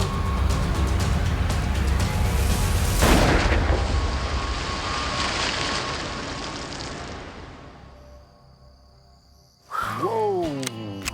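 A gunshot rings out in a flooded swamp during an alligator hunt, a loud sharp crack that decays into open-air rumble, while motor and water noise run beneath.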